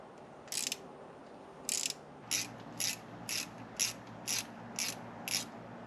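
Ratchet wrench clicking on a 10 mm bolt on a 50-year-old Volvo 164E being revived after sitting 20 years, nine short bursts of rapid pawl clicks in a steady rhythm, close and clear.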